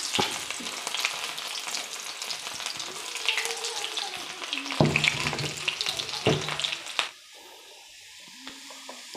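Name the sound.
small onions frying in coconut oil with mustard seeds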